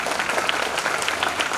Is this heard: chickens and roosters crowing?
no